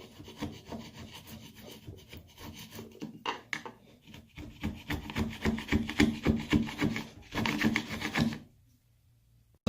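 Old caulk being scraped off a bathtub with a screwdriver, a dense run of rapid rasping, rubbing strokes up close that gather pace and loudness before stopping abruptly, with no talking.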